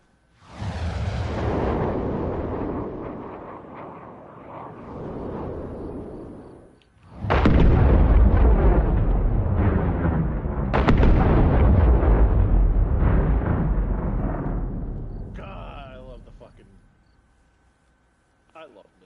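Missile explosions in the military video game ARMA: heavy, rumbling blasts, one long roar and then a second sustained booming stretch, loud and close, with voices talking over them.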